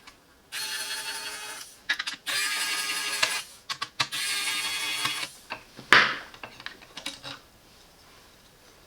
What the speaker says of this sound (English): To remove that, we need to remove these 3 screws.